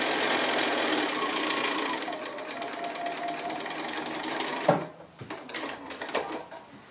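A sewing machine stitching the centre seam of a quilt heart block made from 2 1/2 inch strips, a steady close rapid whir that stops midway, followed by handling clicks and fabric rustle.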